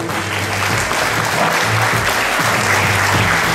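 A loud, close round of clapping fills a hall during a fashion show featuring models with disabilities, sustained and dense, with a low steady hum or music tone underneath.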